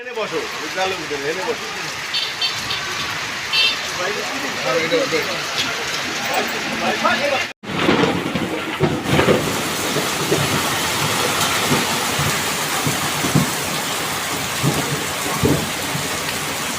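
Steady heavy rain pours down in Khulna with rumbling thunder rolling underneath, broken by a brief near-silent gap before the downpour resumes just as loud.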